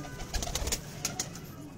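A Laal Pari female pigeon on a rooftop loft gives a short, low coo among other birds, with faint chirps and steady background noise.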